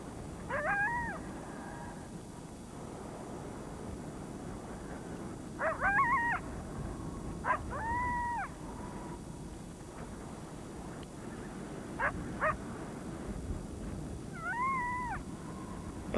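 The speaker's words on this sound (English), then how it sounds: "A sudden new and ominous sound. The great horned owl, fiend of the night" Repeated hooting and screeching calls from a great horned owl, irregular and somewhat distant, over steady outdoor background noise.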